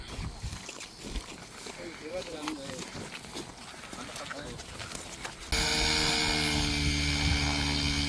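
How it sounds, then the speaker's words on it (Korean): An RC helicopter flies at a model aircraft club field, its rotor whine close and steady and growing louder and more constant midway, with voices and outdoor activity underneath at first. "헬기는 크게 못 찍겠습니다. 너무 움직임이 현란해가지고."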